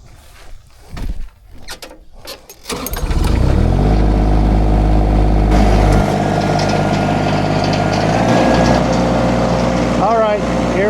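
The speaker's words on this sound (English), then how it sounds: "So I'm gonna start with the Derette XC1100 with the Derette brush cutter." Derette XC1100 machine with a Derette brush cutter, starting after a few faint knocks and rustles, then settling into a loud, close, steady engine roar with mechanical whine that continues to the end.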